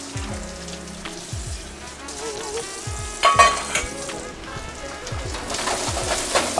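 Sweet white onions fry in a wok, a crackling, popping sizzle that swells louder midway and keeps going, with faint tonal sounds in the background.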